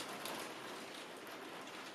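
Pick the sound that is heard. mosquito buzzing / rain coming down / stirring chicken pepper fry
rain coming down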